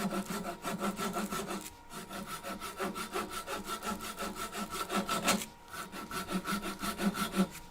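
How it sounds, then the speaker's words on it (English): Hand saw cutting a woodturning piece off the lathe chuck, a rhythmic rasping back-and-forth of steady strokes with one short pause midway, close and loud. "finish sawing it off"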